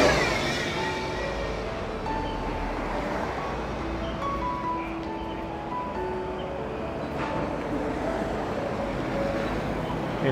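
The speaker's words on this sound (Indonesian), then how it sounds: "Ini ada bus gandeng. Panjang sekali busnya ya." Busy Sydney street traffic at lunchtime, with a long articulated bus passing through a continuous roar of engines and tyres, a steady near rumble with faint scattered tones and occasional voices underneath.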